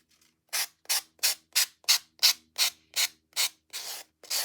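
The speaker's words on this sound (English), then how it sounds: "if you don't have a sanding block, but you have an emery board works really, really well too" Sanding block rubbed in quick, even back-and-forth strokes on craft paper during collage tag making, about a dozen close, crisp rasping scrapes at a steady rhythm with no talking.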